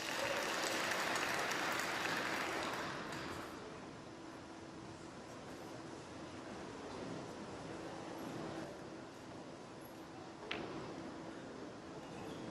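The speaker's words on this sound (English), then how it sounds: "Yeah, the applause." Steady applause from a snooker audience at the Wuhan Open fills the first few seconds, then tapers to a softer, sustained clapping and murmur with a brief sharp knock near the end.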